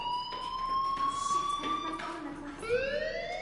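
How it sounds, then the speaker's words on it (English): An electronic fire alarm in the Life is Strange video game sounds a steady, continuous wailing tone that shifts pitch partway through, with faint background ambience. "do you hear that fire alarm? That means you should be outside."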